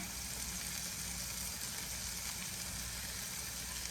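Thyme and red pepper hit a hot pan already holding celery for a lentil dish, producing a steady, even sizzle that runs unbroken throughout with no voices.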